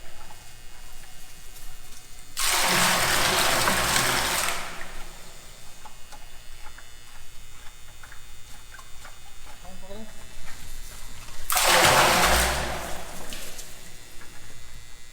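Chlorine mixture poured into a water cistern at a house and pool build site in the Philippines gives two loud bursts of rushing, splashing water, one lasting about two seconds and a shorter one near the end, with quieter background noise between them.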